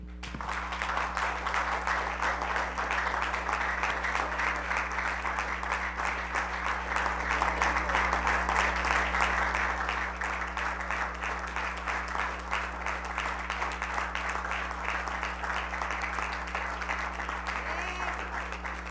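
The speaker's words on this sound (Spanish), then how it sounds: "Un aplauso genuino para el Señor." A church congregation applauds during a sermon, with sustained, even clapping from many hands over a steady low hum, continuing for nearly twenty seconds with faint voices mixed in.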